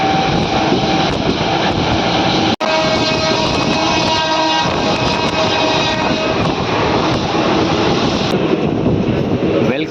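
A Raichur-Guntakal DEMU passenger train runs at cruising speed, a loud continuous roar of wheels and motors heard from on board with a brief sharp knock early on.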